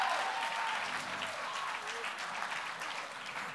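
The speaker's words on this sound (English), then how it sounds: "Please applaud the poet." Audience applauding a poet at a youth poetry slam competition, a continuous sustained patter of clapping from a crowd, somewhat distant and even, with faint voices mixed in.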